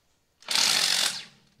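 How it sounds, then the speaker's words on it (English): A drilling machine runs on stone in a short burst, a loud harsh grinding buzz that starts abruptly, holds for about half a second and fades away. "Drilling machine."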